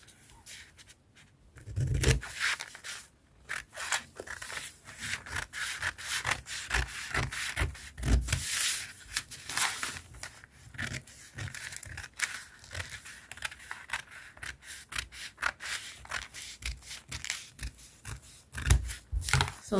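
Scissors cutting through folded fabric, repeated rough snipping and rubbing strokes in an irregular rhythm, close and fairly quiet with no talking.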